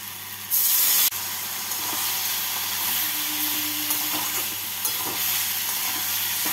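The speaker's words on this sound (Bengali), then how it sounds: "এবার অল্প জল দিয়ে আলু বেগুনের সাথে মশলাটাকে কষিয়ে নেব।" Spice paste with ground ginger, green chilli and cumin frying in a pan with potatoes and eggplant and a little water, giving a steady close sizzle with stirring scrapes and a louder burst of hiss near the start.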